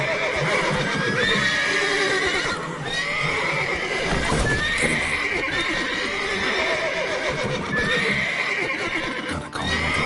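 Video game horses neigh and whinny repeatedly over the steady clip-clop of hooves, loud and close, with overlapping calls throughout and no speech.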